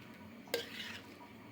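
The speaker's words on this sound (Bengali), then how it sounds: "এখন ভালো মতন সবগুলাকে মিক্সড করে নিব" Spinach, potatoes, onion and dried chili are stirred in a pan, giving a single quick scrape of a spatula against the pan over a faint background sizzle.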